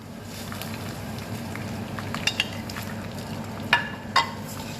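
A seafood risotto base cooks in a pan with a steady, close sizzle and low rumble, marked by a few sharp clicks of a utensil toward the end, with no talking.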